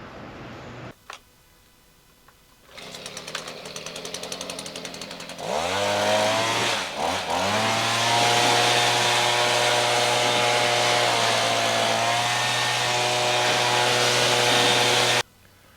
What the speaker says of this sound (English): Bush hog does a good job.